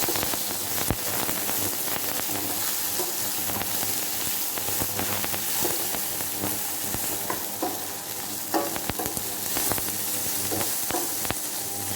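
Onions frying in a pan for mutton dalcha, a steady dense sizzle with occasional stirring scrapes running loud and close throughout, no voices.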